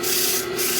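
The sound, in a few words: sanding wood with rough sandpaper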